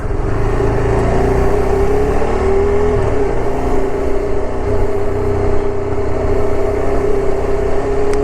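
A car overtakes on a road with an oncoming truck, its engine droning steadily and loudly with a sustained whine and slight pitch shifts as it revs, continuous and close throughout.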